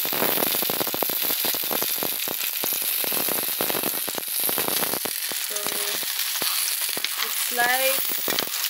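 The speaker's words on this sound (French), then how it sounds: "tantôt l'eau que je mets directement dans l'huile ici, et ça éclate" Water splashed straight into hot frying oil while cooking Vietnamese spring rolls, setting off a dense, loud crackling sizzle with sharp pops throughout and a few utensil clinks toward the end.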